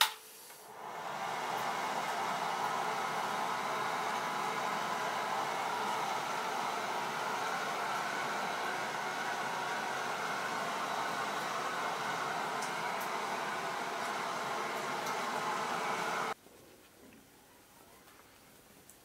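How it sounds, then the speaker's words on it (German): Hair dryer blowing on a pet after a wash, a steady close whooshing hum running about fifteen seconds before switching off, with no talk over it. "damit du wieder schön trocken wirst, wirst du jetzt geföhnt"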